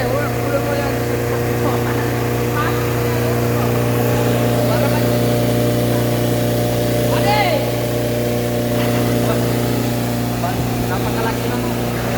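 New hammer mill drones in a continuous, even mechanical hum at a steady pitch, with people chatting nearby over the running machine.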